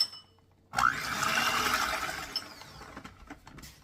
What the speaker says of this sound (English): I'm going to just take my hand mixer and mix this together.